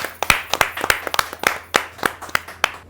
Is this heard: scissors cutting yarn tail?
no